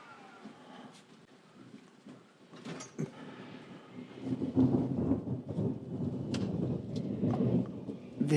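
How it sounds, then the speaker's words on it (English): Thunder rolls in from a distance as a faint rumble, then swells into a louder, sustained roar with scattered sharp cracks and rain-like hiss. "There comes the thunder."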